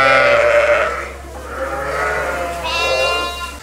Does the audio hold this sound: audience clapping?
no